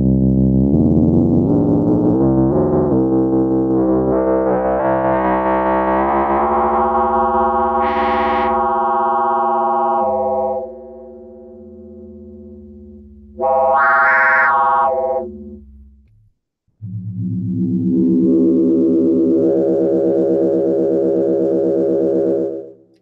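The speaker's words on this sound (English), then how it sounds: "This is the 2-operator FM." Arturia MicroFreak synthesizer running its 2-operator FM oscillator, loud, bright harmonic tones gliding and swelling in pitch, with a short high burst mid-way and a dip to near silence before a dense sustained tone returns.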